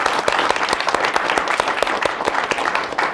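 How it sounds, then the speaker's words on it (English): A class audience gives a guest a round of applause, dense crisp hand claps close by, loud and continuous without speech. "Let's give him a round of applause."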